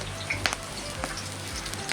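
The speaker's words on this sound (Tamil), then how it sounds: "உருளைக்கிழங்கு கறி வைக்கிறதுக்கு தாளிக்க போகிறோம்." Mustard seeds crackle and sizzle in hot oil for tempering a potato curry, a close, steady frying hiss with a few sharp pops.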